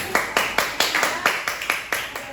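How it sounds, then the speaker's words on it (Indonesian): A classroom claps for a student group in even, evenly spaced beats, about ten sharp claps in a steady rhythm, close and fairly loud. "tepuk tangan buat mereka"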